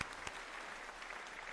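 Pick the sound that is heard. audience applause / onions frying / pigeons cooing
audience applause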